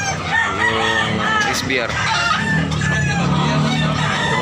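A rooster for sale at a busy poultry market in Tabunok, Cebu, crows loudly and close by while hens cluck, with someone speaking briefly amid the crowd.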